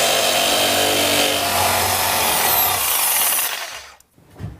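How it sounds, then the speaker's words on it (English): A jigsaw cuts an outlet opening in a wall panel, a loud, continuous buzzing whine lasting several seconds before stopping abruptly, followed by a brief faint clatter. "cut out the opening with a jigsaw"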